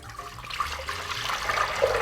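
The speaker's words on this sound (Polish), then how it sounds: "Do garka wlewamy około 2 litrów wody." About two litres of water pour into a soup pot in a kitchen, a brief, steady rushing splash that runs on throughout at moderate volume.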